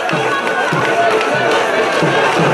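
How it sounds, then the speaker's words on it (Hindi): Villagers cheer and clap in a welcome procession for a guru's arrival at his birthplace village of Bhadba, a dense continuous crowd roar with rhythmic beats and voices mixed throughout. "ग्रामवासी जयकारे भी लगा रहे हैं, तालियां बजा रहे हैं, प्रसन्नता जाहिर कर रहे हैं"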